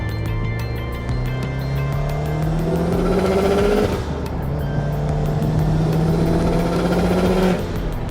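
A turbocharged Subaru Legacy GT Spec B engine, about 400 hp, revs hard at full throttle, its pitch climbing, dipping briefly at a gear change, then climbing again; loud and close, no voices.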